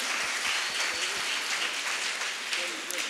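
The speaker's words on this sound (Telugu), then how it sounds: "మనందరం కూడా గట్టిగా చప్పట్లు కొట్టి కృతజ్ఞత తెలియజేద్దాం" Congregation applauding at the 28th anniversary festival of St. Michael's church in Sulanagar, Khammam, a dense steady patter of many hands at moderate distance, with voices mixed in.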